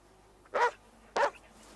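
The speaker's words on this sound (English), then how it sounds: "That dang dog." Two distinct barks from a dog nearby, spaced about half a second apart, each short and fairly loud over a quiet background.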